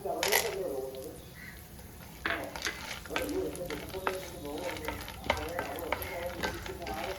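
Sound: nuts roasting in ghee in pan

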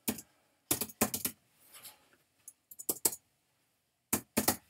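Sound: typing on a computer keyboard

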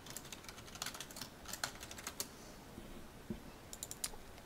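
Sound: typing on a computer keyboard

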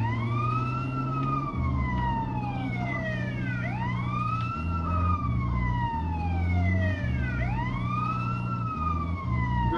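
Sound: ambulance siren in the video game GTA San Andreas

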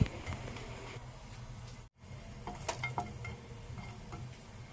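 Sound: asafoetida sizzling in hot oil

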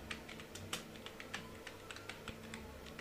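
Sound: typing on a computer keyboard

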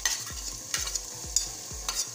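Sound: tomatoes added to frying garlic ginger paste in oil

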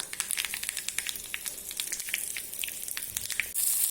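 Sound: red chillies sizzling in oil for tempering

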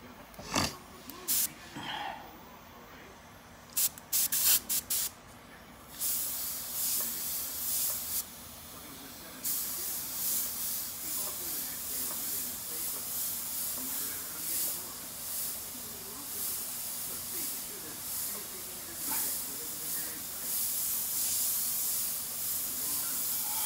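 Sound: spray painting a portrait

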